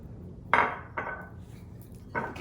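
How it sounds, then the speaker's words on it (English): A utensil stirs melted butter into pudding batter in a bowl, giving three short scraping clinks that are close and moderately loud. "Give that a stir."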